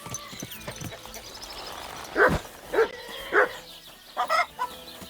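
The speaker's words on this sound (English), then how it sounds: "Call back that dog, or I'll report you for being a public nuisance." A dog barks in the video game Kingdom Come: Deliverance 2, with four or five loud sharp barks close by amid hoofbeats and background game sounds, while a voice is heard faintly.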